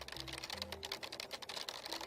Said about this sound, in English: Just sitting here and watching her type away.